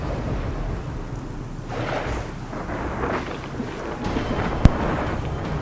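Storm gust in the Gears of War 4 video game, a dense roar of wind and heavy rain with rumbling thunder throughout and a sharp crack near the end, loud and continuous with no talk.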